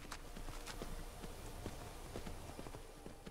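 A horse's hooves clip-clop in a steady, quick rhythm while it is ridden through the modded Skyrim video game, sounding close and moderately quiet.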